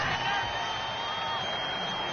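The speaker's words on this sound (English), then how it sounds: "The crowd's not doing that O-line any favors" Steady stadium crowd roar at an American football game, a dense continuous wash of many voices with no breaks, loud and even across the whole stretch.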